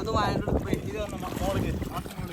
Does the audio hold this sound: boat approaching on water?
yes